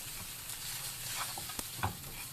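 A thick filling of cheese sauce with mozzarella gets stirred quickly in a pan with the heat just turned off, giving soft scraping and light lingering sizzle, with a couple of small knocks near the end.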